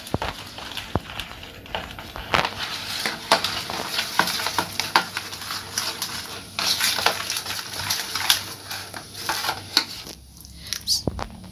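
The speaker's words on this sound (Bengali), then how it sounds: "যে সর্ষেটা বেটে রেখে দিয়েছিলাম সেটা দিয়ে দেব এর মধ্যে, দিয়ে ভালোভাবে মিশিয়ে নেব দইয়ের সঙ্গে" Mustard paste being stirred into yogurt in a bowl for a hilsa curry, with soft repeated wet scrapes and light clicks of a spoon against the bowl in a quick irregular rhythm, close up and fairly quiet.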